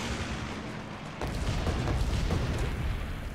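Bombing run explosions in Guns Up rumble as a dense cluster of deep booms and thuds, starting suddenly and rolling on loudly to the end, no talk.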